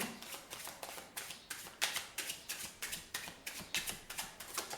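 A deck of wet playing cards shuffled for a magic trick, about a dozen regular, close slapping riffles in a steady rhythm, quiet and alone.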